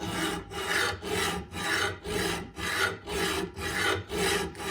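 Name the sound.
sharpening a lawn mower blade by hand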